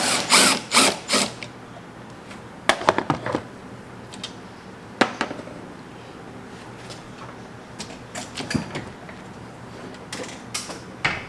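A ratchet loosens the 13 mm strut bolts on a sixth-generation Camaro. Quick bursts of clicking alternate with pauses and metallic clanks, and the tool sounds close.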